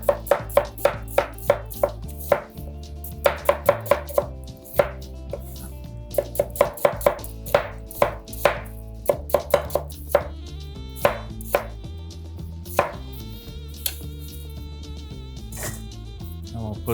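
Close, rhythmic knife strokes on a cutting board as an onion is sliced along its curve for steak fajitas, dense runs of crisp chops with short pauses, clear under a continuous cooking-class voice.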